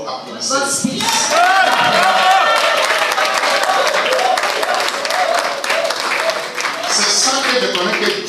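A church congregation bursts into loud, sustained applause, dense clapping and crowd cheering that carry steadily from start to finish with a few voices rising above.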